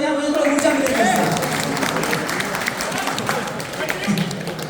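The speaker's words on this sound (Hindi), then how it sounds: "थोड़ी सी तालियां बजाएं, मुझे थोड़ा ऊंचा मिलेगा।" Audience at a corporate farewell party with poetry recitation clapping together, a dense steady applause that sustains evenly throughout, with a speaking voice partly over it at the start.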